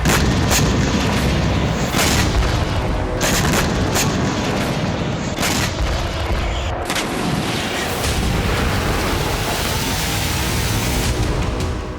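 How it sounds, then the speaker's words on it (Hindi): Israeli air force bombardment in Lebanon produces a continuous roar of heavy booms and blasts with repeated sharp impacts, loud and dense throughout, without voices. "24 घंटे के अंदर यहां इजरायल ने 3 बार भीषण बमबारी की।"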